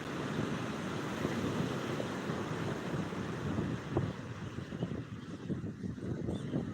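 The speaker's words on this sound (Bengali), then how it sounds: "কালকের তুলনায় আরও আজকে বেশিরভাগ ঢেউগুলো বড় বড়ই আছে" Large sea waves roll in at Digha beach at night during high tide, a continuous broad roar with surging breaks, mixed with gusting wind noise on the microphone.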